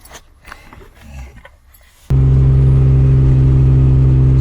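A BMW E36 drift car set up with an extended e-brake and no sway bar starts on a test drive. After a quiet start, a loud, steady engine rumble close by takes over abruptly and continues unbroken.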